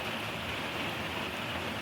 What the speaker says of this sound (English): Sitting here, listening to the rain